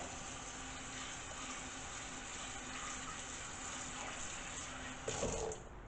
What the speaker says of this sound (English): I'm going to put a little bit more water in this bowl.